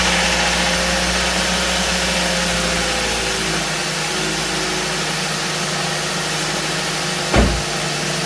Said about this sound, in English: all you have to do is just turn the car on